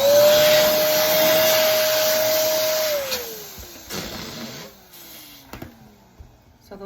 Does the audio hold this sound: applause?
no